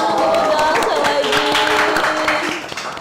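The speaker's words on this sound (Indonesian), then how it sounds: "Tepuk tangan dulu dong." Studio audience on a talk show claps together, a fairly loud burst of applause mixed with background music that thins out toward the end.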